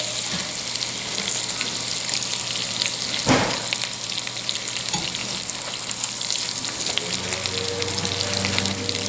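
Parsnip patties fry in coconut oil and butter in a pan on medium heat, giving a steady dense sizzle with occasional crackles and a brief stir or clatter partway through.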